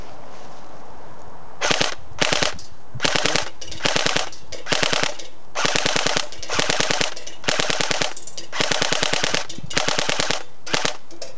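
A Cyma CM.049 MP5 airsoft gun fires full auto in about a dozen short, sharp bursts, each a rapid mechanical clatter separated by brief pauses, loud and close with no talking.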